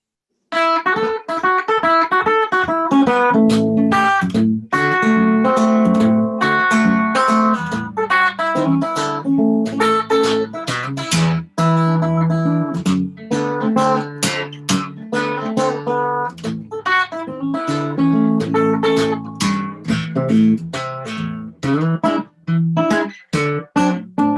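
A full band plays a blues song at a steady mid-tempo, with dense chords and sustained harmonic tones, continuous and loud throughout with no talking.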